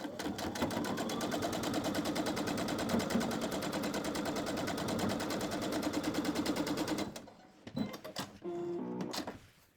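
A sewing machine stitching a quarter-inch seam on a quilt block, running fast and steady with a close, dense chatter for about seven seconds, then stopping and followed by a few clunks and handling noises.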